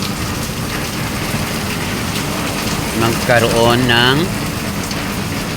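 Steady, loud rain from Typhoon Enteng pours throughout, with a voice speaking briefly over it midway.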